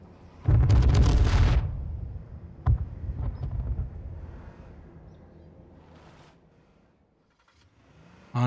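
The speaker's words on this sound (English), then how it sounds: "Kyreg finds the body, notes where it is, and going to see if he can loot it after the second wave of the bombs." Bombs going off in a battle royale game match: a heavy, booming blast with a long rumbling tail, then a sharper second explosion that fades into distant rumble.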